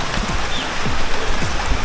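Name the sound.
heavy rain falling outdoors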